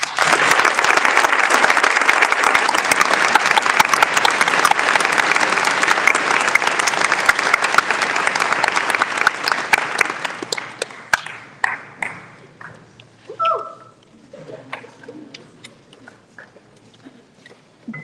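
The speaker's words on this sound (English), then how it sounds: "Can we give them one more round of applause?" An audience at a school athletics awards ceremony applauds in a dense, loud wave of clapping that gradually thins out into scattered individual claps and fades near the end.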